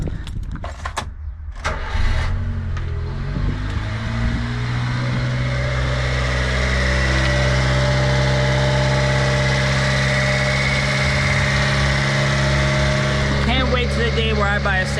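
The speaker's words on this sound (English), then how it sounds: "Let's start this guy up." A Subaru Sambar kei van with its engine in the back cranks over and catches, then settles into a steady, close, rumbling idle that carries on for the rest of the clip.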